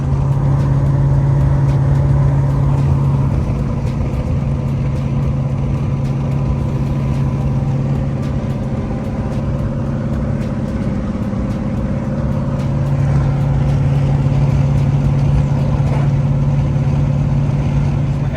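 A Ford Terminator Cobra drives along with a steady low engine drone and road roar heard from inside the car, loud and continuous with slight changes in engine pitch.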